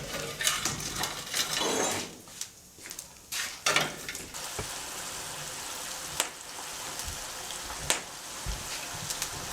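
Sweetbreads sizzle steadily on a wood-fire grill over glowing embers, a soft continuous frying hiss close by, broken by a few sharp clicks and clinks of utensils and a brief dip in the sizzle.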